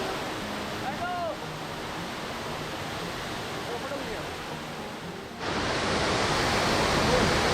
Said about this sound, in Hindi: ये देखिए वाटरफॉल, देखिए हम वाटरफॉल के पास हैं, देख रहे हैं, और ये रहा वाटरफॉल।